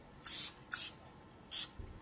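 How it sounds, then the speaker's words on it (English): Three short hissing sprays from a cooking spray can onto a pan, close by, with brief pauses between bursts in an otherwise quiet room. "I'm just gonna spray my pan."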